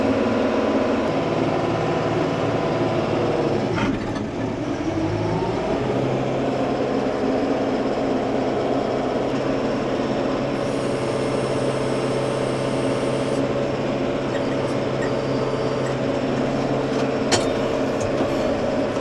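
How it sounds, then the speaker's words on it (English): A tractor throttled up with its PTO engaged gives a loud, steady engine drone with a dip and rise in pitch as it revs, then holds a sustained mechanical hum. "let's throttle up and let's engage this PTO"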